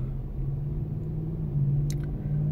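A car engine left running at idle while parked with its doors locked, a steady low rumble with an even hum close by, faint and unbroken, with a brief higher click near the end.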